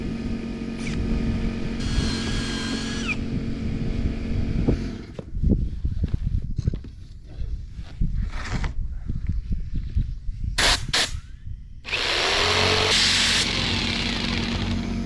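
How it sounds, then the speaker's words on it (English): A jigsaw cuts through wood on a pallet while building a whelping nest. The motor buzzes and the blade rasps in uneven bursts, stopping and starting several times across the cut, with a loud stretch near the end. "You always want to make sure that jigsaw stops before you pull it out."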